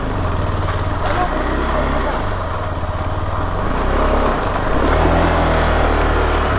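A motorcycle ridden off-road on a rough, risky track runs with a steady low engine drone that rises and falls with the throttle, close and loud, while people talk faintly over it.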